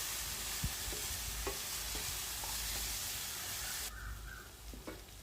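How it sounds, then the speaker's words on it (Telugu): Two tablespoons of chili powder being stirred into a pan of eggplant, tomato and drumstick curry with milk, a steady close sizzle carrying sporadic soft scrapes and knocks of the spoon, with no voices. "కారం వేసి మరొకసారి ఇలా కలుపుకుందామండి."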